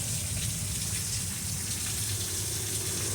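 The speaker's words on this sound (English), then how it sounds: "I thought I would do a rain video for those of you that enjoy the rain sounds." Steady, dense rain pours down during a June storm, a constant broadband hiss with a low rumbling undertone, close and even throughout with no voices.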